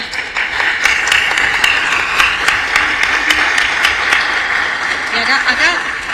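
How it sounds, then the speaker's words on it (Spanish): Students receive applause at a city council session in Mercedes, a loud, sustained round of clapping with distinct individual claps, and voices talking over it toward the end. "Un aplauso para los chicos."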